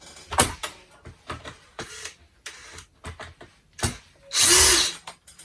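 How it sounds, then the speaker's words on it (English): A power drill backs screws out of a Dyson Ball Animal 2 (UP20) vacuum during servicing, heard as short close whirring bursts and clicks, ending in one longer loud drill run. "now I'm going to switch to my drill."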